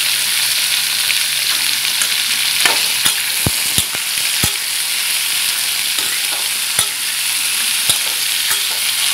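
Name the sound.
frying and stirring potatoes in a pan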